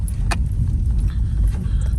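Car engine idling steadily after being restarted, a low continuous rumble close by with a brief metallic jingle near the start, no talk.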